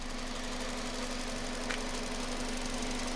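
A car engine idles steadily in an auto shop lab, a constant low hum with a strong steady tone and no talk over it.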